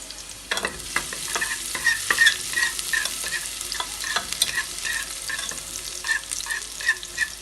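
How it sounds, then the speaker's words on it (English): Chopped garlic frying in about a tablespoon of olive oil gives a steady soft sizzle, with a utensil stirring and tapping the pan in a rhythm, close and alone without talk. "I'm adding some chopped garlic, that is for flavor."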